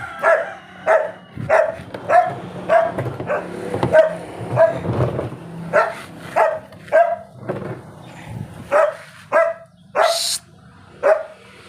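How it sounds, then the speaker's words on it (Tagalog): A dog barks repeatedly in a steady series of sharp, fairly close yelps, about one bark per second, with faint background noise between them. "Ako, patay, napakaingay ng aso"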